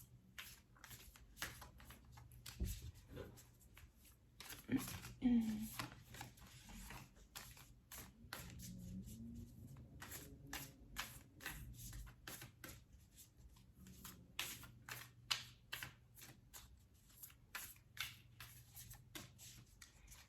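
Repeated crisp riffling of a card deck being shuffled close by, in quick bursts with short pauses, no talking.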